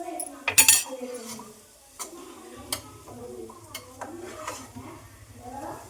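A spoon stirs carrot rice in a metal pot, giving scattered clinks and scrapes over a low continuous sizzle, with a few sharper clatters near the start.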